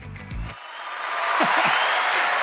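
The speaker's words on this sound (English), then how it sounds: "give her a round of applause" A studio audience applauds a guest, the clapping swelling into a steady wash of noise that grows louder and holds, following a brief low voice at the start.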